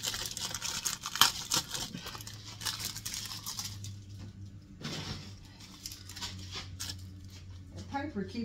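Paper wrappers crinkle and tear off Swiss rolls close by in quick rustling bursts, while a person talks over the handling.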